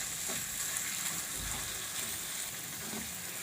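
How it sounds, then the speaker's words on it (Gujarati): Diced potatoes frying in an oiled pan for a semolina snack, giving a steady bright sizzle with soft stirring scrapes and no voices over it. "તો આપણે બટેટાને આ રીતે આપણે ઘડીકામાં સડવા દેવાના, એટલે પછી રવો નાખીએ તો આપણે પાકી જાય"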